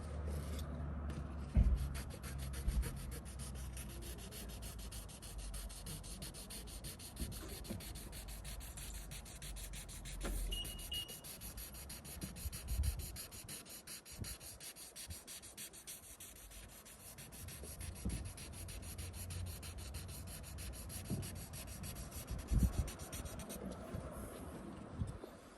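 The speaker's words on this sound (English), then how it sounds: "I'll start to use this 2000 wet sandpaper" Car paint being wet sanded with 2000 grit wet sandpaper, a steady soft scrubbing rasp repeated in long strokes, close and fairly quiet, with occasional light knocks and no speech.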